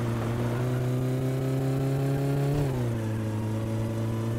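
A car engine with an off-sounding distributor idles steadily in the My Summer Car video game, a loud, even mid-pitched drone that dips slightly in pitch partway through, with no talking.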